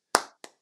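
Two sharp hand claps about a third of a second apart, close and alone, from a group counting out the UCLA eight-clap cheer during a basketball reaction show.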